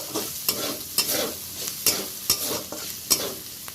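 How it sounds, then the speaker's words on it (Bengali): Ginger paste with a turmeric and chilli powder mix frying in a pan for vegetarian ghugni, a steady sizzle broken by regular, crisp scrapes of a spatula stirring every half second or so, close and alone. "এবার খুব ভালো করে ভেজে নেব নেড়ে ছেড়ে"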